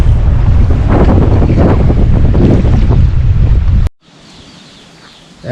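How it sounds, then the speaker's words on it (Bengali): Strong wind and rough river waves slap and roar loudly around a moving boat at dusk near Mukutmanipur, then the noise abruptly drops to a faint hiss before swelling again. "মানে এই টাইমটায় ঢেউটা অনেকটাই বেশি"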